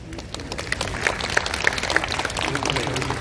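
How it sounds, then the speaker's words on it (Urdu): Audience applause rising in an indoor health-awareness talk, a dense steady patter of many hands clapping for several seconds with a few sharper claps standing out. "تو تالیاں اپنے لیے بجا دیجیے"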